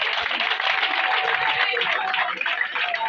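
Crowd at a political meeting applauding its list leaders, a dense steady wash of clapping and cheering filling the whole stretch with no letup.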